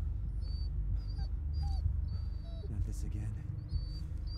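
A dog whimpers and yips in short, thin, high whines amid a low rumbling ambience in the horror video game Blair Witch, with faint game sounds underneath.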